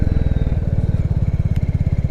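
A 2022 Royal Enfield Classic 350 motorcycle engine idles close by with a deep, even thump-thump rhythm, steady and loud without revving or voices.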